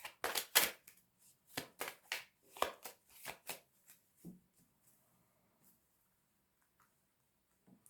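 Tarot cards shuffled and cut, several quick close riffles and slaps in the first few seconds, then tapering to soft scattered handling noises and near silence.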